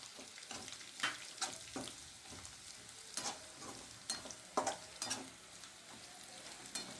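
Peanuts and grated coconut sautéing in a pan for khandeshi eggplant bharit, quiet sizzling broken by irregular scraping stirs of a spoon against the pan, close and faint, with no talking.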